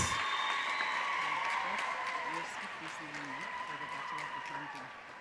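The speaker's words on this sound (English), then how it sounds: "Round of applause" Graduation audience at a Faculty of Commerce ceremony applauding steadily after a graduate's name is called, a broad even clatter of clapping that eases off slightly midway, with a voice speaking faintly underneath.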